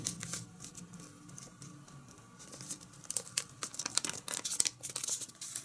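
Sheets of paper crinkle and crease as they are folded into an origami Easter bunny, a soft run of crumpling and rustling that grows busier and louder toward the end, with no voices.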